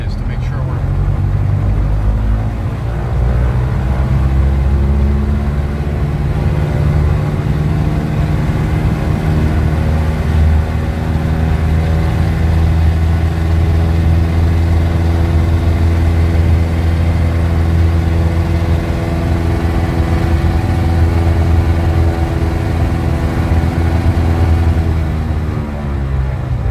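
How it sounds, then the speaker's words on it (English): A light aircraft engine revs up to about 2500 RPM during a propeller balancing run, holding a loud, steady, droning roar throughout with strong harmonic hum. "So I'm going to rev it up to 2500 RPM"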